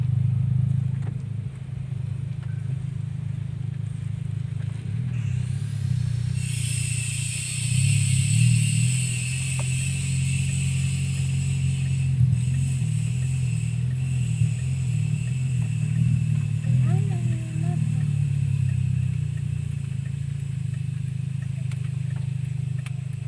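A car engine hums low and steady while a learner driver pulls off in first gear on an uphill slope, revving up briefly and holding a constant drone under a faint high whine.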